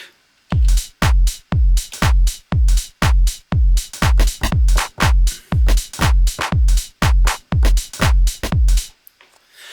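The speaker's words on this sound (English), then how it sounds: "with this particular snare drum, I want to clean things up" A punchy snare hit repeats steadily at a brisk even tempo, each strike bright and tight with a short tail, played alone.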